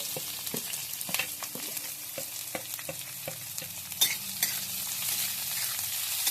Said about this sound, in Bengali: পেঁয়াজটা আমরা লাল লাল করে ভেজে নিচ্ছি